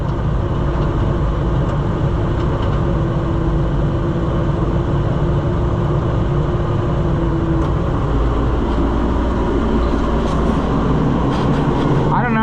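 An Oliver 525 combine engine idles with a loud, constant rumble while the header lifts, a steady drone filling the whole stretch with a faint rising whine partway through.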